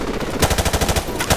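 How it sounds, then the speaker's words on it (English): An RPD light machine gun rattles off a rapid, steady burst of loud close shots in Call of Duty: Modern Warfare Remastered, the stream of rounds running nearly the whole moment after a brief lead-in. "Or, technically, this is a light machine gun."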